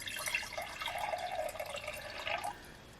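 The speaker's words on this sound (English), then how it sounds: "So I'm going to go ahead and pour this into my cup." Water pouring from a new pitcher with an opening spout into a cup, a close, steady trickling gurgle whose pitch rises as the cup fills, stopping abruptly near the end.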